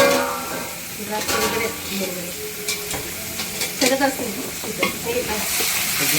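Mutton being stirred and fried with masala in a home kitchen pan, a steady close sizzle with scraping stir strokes and clatter throughout, bright crackling bursts recurring every second or so.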